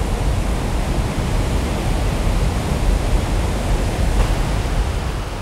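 Iguazu Falls, a vast horseshoe of 275 jungle waterfalls on the Argentina–Brazil border, pours as a loud, steady, broadband roar of cascading water with no pauses and no voices.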